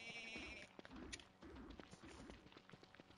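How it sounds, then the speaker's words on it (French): Goats in the video game Don't Starve Together give short bleats, faint and scattered over soft background game sounds. "Des chèvres, des chèvres."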